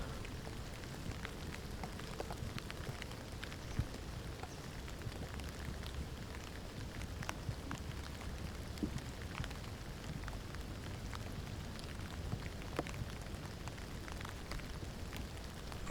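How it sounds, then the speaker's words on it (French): Steady rain falls close by during a walk outdoors, a dense even patter with scattered sharper drops and no voices. "Marcher sous la pluie et sentir vivre sa carcasse."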